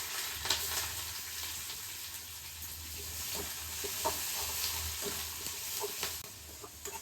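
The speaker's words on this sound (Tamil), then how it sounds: "இது எல்லாமே எண்ணெயிலே நல்லா வதங்கணும்." Steady sizzling of onions and curry leaves frying in hot oil, with occasional scrapes and stirs of a utensil in the pan, close and continuous.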